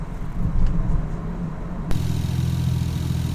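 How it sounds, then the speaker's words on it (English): Nissan Skyline R33 engine running just after its first start following months of work, a steady near idle hum with a slight jump in level partway through, no talk over it. "as you can hear, we've started the car"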